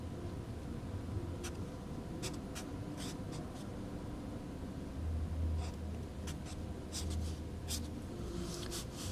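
Chalk or marker writing math on a board, a series of faint, quick scratchy strokes in short bursts over a steady low room hum, with no talking.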